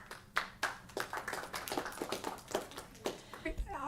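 An audience at a city council meeting claps in a short run of uneven, fairly close handclaps from a handful of people, thinning out toward the end.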